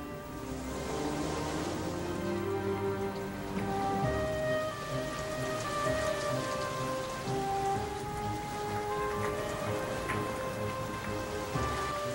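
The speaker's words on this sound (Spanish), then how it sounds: "La lluvia cubrió toda la tierra." Steady heavy rain patters densely on a surface, continuous and close, with a soft musical tone playing underneath.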